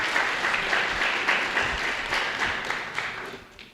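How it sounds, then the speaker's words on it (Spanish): A seated audience at a public listening session gives a round of applause, a dense wash of clapping that stays fairly even, then softens and fades out near the end; no voices over it. "Vamos a brindarles un fuerte aplauso."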